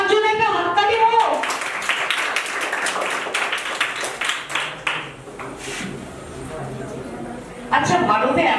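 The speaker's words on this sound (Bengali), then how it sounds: "আমার জন্য একটা হাততালি হোক।" An audience claps at an ashram gathering in Barasat, part of a pre-puja clothing distribution event. Steady, moderately close applause lasts several seconds, with voices talking just before and after.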